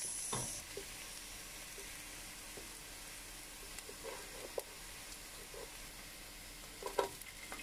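Garlic browns in a pan while onion is added, a faint steady sizzle broken by a few soft clacks and stirring scrapes, with no voices.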